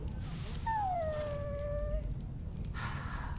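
A dog in the video game Dragon Age: Origins lets out a long, thin, falling whine, faint over low background ambience, with a brief higher whimper before it.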